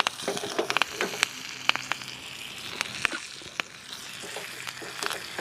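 Oil sizzles and crackles steadily, with sharp spitting pops scattered throughout as crushed garlic, turmeric and curry leaves fry close by for tomato rasam; no voices.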